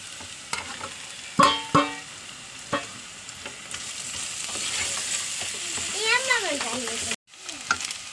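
Ground spices such as chilli, coriander, turmeric and fennel sizzle in a hot pan for chicken biryani, with clinking stirs and scraping bursts over a soft, steady fry.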